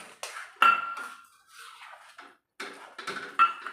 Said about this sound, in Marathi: हे एक वाटी हापूस आंब्याचा पल्प काढून घेतलेला आहे तो घालून घेऊया मिक्स करून घेऊया